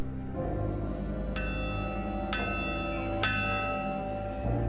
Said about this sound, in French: La cloche.